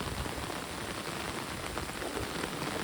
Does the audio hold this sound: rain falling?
yes